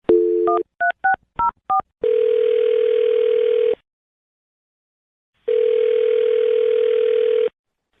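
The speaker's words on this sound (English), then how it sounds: "I'm going to dial her phone number right now" A telephone call is placed: a quick run of touch-tone dialing beeps, then long steady electronic tones broken by a silent pause as the line rings, loud and clean with no voices.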